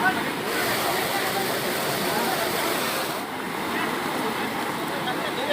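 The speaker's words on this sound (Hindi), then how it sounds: "पानी का बहाव बढ़ता जा रहा है।" Floodwater in Pali rushes past with rising force where travellers sit trapped in vehicles, a loud, unbroken roar of turbulent water that stays steady throughout.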